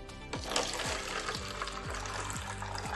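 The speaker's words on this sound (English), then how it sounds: "Give this water a quick pour." Aquafina bottled water pours steadily into a container, a continuous close splashing stream with glugging pulses repeating about every half second.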